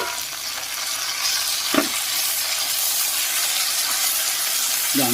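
Tomato pieces are tipped into a hot frying pan and stirred, giving a loud, steady sizzle and frying hiss throughout with a couple of brief scraping knocks from the spoon against the pan.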